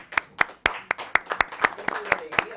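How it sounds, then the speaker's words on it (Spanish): Brisk, close hand clapping from a small group at a committee session, the sharp claps landing in a quick, steady rhythm over a few seconds. "necesito un aplauso"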